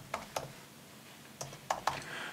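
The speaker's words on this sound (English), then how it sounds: "I'll type in advanced." A handful of light keystrokes on a computer keyboard, faint and close, arriving as a few isolated taps with short gaps between them.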